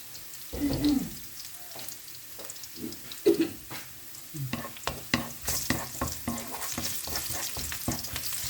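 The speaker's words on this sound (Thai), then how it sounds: "ผัดหมูใส่กระลำใส่หัวแครอท ใส่หมู" Pork stir-fried with cabbage, carrot and onion in a pan, heard as a close, lively sizzle broken by repeated scraping and clattering stirs that grow busier toward the end, with no talking.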